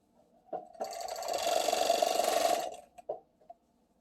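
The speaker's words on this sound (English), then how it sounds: "I serge the skinny sides." A serger runs in one steady burst of about two seconds, stitching the narrow sides of leotard leg bands placed right sides together, with short clicks of handling before and after.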